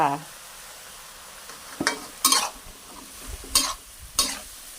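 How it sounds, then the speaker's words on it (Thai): Mixed vegetables with wood ear mushrooms, broccoli and baby corn stir-fried alongside marinated pork, giving a steady sizzle broken by four or five loud scraping stir strokes of a spatula in the pan, close up, with a brief voice at the start. "ผัดเลยเนาะจ้า"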